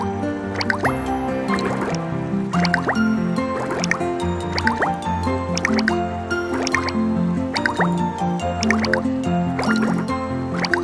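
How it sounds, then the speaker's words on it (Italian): A toy bubble machine in a children's cartoon churns out bubbles with a steady run of wet drips, plops and squishy liquid pops in a bouncy rhythm, close and fairly loud, with no voices. "macchina delle bolle!"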